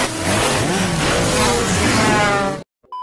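Cartoon-style race cars accelerate and rev together in a dense, loud, continuous engine roar with rising pitch, then cut off abruptly into silence.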